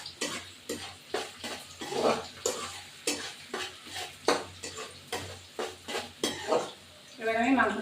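Chicken meat fries in mustard oil with turmeric and salt while being stirred in a pan, rhythmic scraping strokes about every half second over a soft sizzle, close and alone.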